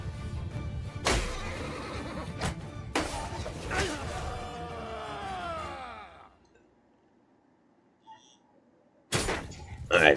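Horses whinny in a Mount & Blade 2 Bannerlord battle, several loud neighing calls rising over the clatter of fighting, then the noise drops away to near silence before a final burst returns.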